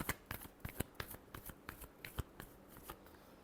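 Tarot cards riffle and snap through a quick shuffle, a rapid run of crisp papery flicks and slaps with a few sharper taps, close and fairly quiet with no voice over them.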